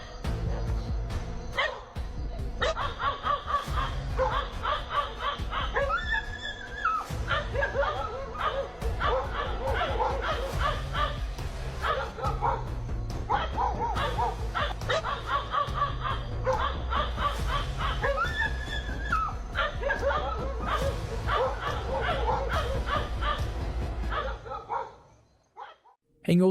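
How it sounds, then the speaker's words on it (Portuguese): Dogs bark and yip repeatedly over a dense, loud background of music or voices, with a few softer whimpering sounds, before everything fades out at the end. "Os cachorros por atrás, vocês perceberam,"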